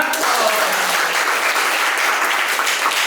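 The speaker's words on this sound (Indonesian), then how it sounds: "Tepuk tangan untuk mereka semua." Steady, loud applause from a group at a classroom wedding-ceremony practice session, dense clapping sustained evenly throughout.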